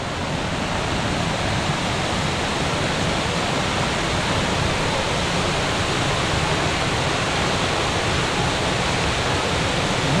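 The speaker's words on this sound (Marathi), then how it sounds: "बघा प्रवाह बघा किती जोरात आलाय" A swollen stream in the Konkan runs hard during heavy rain, a loud, unbroken roar of rushing water heard close and alone for the whole stretch.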